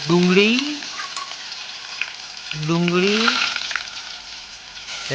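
Onions sizzling in hot oil with cumin seeds, a steady close frying hiss with stirring scrapes, for an aubergine dish cooked on a clay stove; faint voices or bird calls sit under the sizzle.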